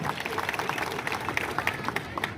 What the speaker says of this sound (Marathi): त्यांच्यासाठी एकदा जोरदार आपण टाळ्या वाजवल्या पाहिजे